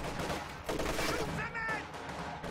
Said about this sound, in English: He's going to keep that barrage going